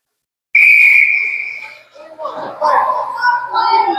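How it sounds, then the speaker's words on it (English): A sharp, sustained referee whistle blast for a slashing penalty in a girls' lacrosse game, lasting about a second and a half, followed by crowd noise and voices in a large arena. "Now what's the whistle for?"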